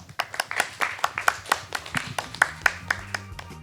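Scattered clapping from a small audience thanking two presenters and four panelists at the close of an energy security panel discussion, individual sharp claps standing out in an uneven rhythm, fairly close.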